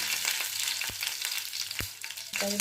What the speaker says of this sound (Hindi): आम ए फुटण पकईदबा जीरा सोरिष शुखिला लंका कंचा लंका